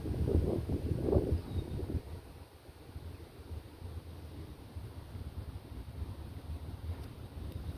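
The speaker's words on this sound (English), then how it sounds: "The wind is about to start blowing." Wind blowing outdoors against the microphone, a louder gusty rumble at first that settles into a steady, softer rush throughout, with no talking.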